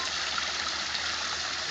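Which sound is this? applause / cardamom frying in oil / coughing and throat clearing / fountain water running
fountain water running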